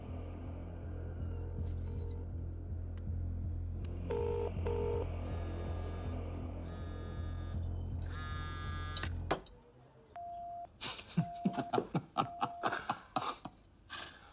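A steady electrical hum with a few beeping tones gives way to a series of short touch-tone beeps, sharp clicks and taps.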